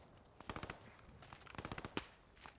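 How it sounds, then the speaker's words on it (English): Gunfire in the WWII shooter Axis Alamo on Utah Beach: rapid bursts of automatic and single shots crackle in clusters, fairly close and sharp, with no talking over them. "We're taking fire on the east"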